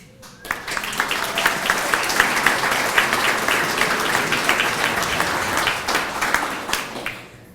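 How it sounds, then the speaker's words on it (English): At a press conference preview party for Buddy Holly Hall, an audience breaks into applause for the project team, sustained clapping from many hands that starts abruptly and fades near the end. "every one of these people deserve the applause, so we're going to go ahead and do it each time"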